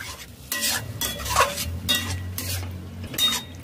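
A spoon stirs and scrapes a curd mixture as it sautés in a metal pan on low heat, for a spinach-mushroom dish. The strokes come in repeated, rhythmic scrapes with light clinks of utensil on pan, close up and with no voices.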